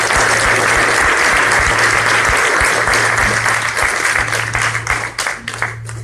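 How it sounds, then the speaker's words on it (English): A warm round of applause from an audience at a community talk, a loud, dense, sustained clapping that thins and grows more scattered toward the end, over a steady low hum. "Let's please give everyone who came before me another warm round of applause"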